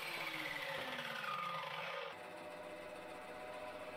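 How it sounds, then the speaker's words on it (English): Mitre saw cutting wood pieces to length, the blade whining as it winds down and then cutting off abruptly, followed by a low steady workshop hum. The sound is fairly faint and no one speaks. "I could then go over to the mitre saw and chop them all down to length"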